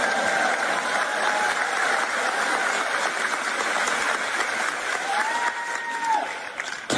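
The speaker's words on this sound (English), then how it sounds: "Now you can clap and make noise" A large church audience claps and cheers in a dense, steady roar for the full stretch, with a few voices rising briefly above the noise near the end.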